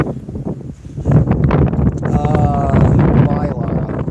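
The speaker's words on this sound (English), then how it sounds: "Windy out here." Wind gusts outdoors buffet a microphone, rumbling low and loud throughout, with a voice speaking underneath.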